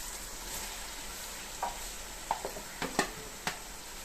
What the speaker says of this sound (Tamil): இப்போ வெங்காயம் வதங்கிட்ட உடனே தக்காளி போட, 450 கிராம் தக்காளி இப்போ போடுறேன்.